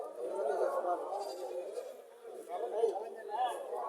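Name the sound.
goats bleating at a goat market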